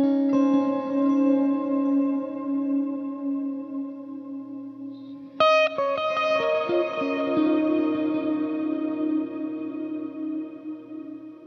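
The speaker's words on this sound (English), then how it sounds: "The Heliosphere is a new delay reverb thing where the delay has reverb on the tails as well" Sustained instrumental notes through a Heliosphere delay-reverb effect ring out with repeating delayed echoes whose tails smear into a lush reverberant wash, a new chord struck midway and trailing off slowly.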